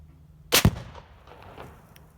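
A single sharp AR-15 rifle shot fired at a target outdoors, loud and close, followed by a short echoing tail.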